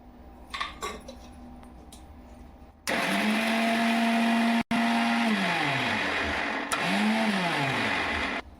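An electric mixer grinding ingredients fine for fasting parathas, loud whirring bursts that rise and fall in pitch as the motor spins up and slows, with a short break between runs and handling clatter before.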